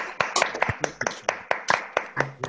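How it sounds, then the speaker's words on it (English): Sparse clapping from an online audience applauding a panel after a debate on the NHS, a dozen or so separate claps from a few people at uneven intervals, fairly close, with faint voices in the background. "give our panel a round of applause."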